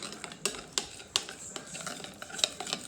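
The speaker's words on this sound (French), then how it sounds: "Et maintenant, on brasse bien comme il faut." Spoon stirring a molasses cake batter in a bowl, soft scraping with a few sharp clinks against the side at irregular intervals, close and fairly quiet.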